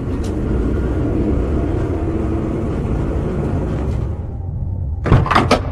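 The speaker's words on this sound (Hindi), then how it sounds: "सानिया ने दरवाजा खोला" A door opens in a home, with a brief burst of clatter and rattling near the end after a steady background rumble.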